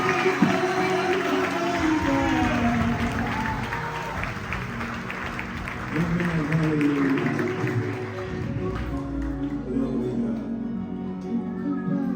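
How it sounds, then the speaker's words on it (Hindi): A church congregation claps together during a full service, with rhythmic, steady clapping blended with voices of the crowd calling out and singing at a moderate, roomy distance. "आइए जरा तालियां बजाकर कहिए"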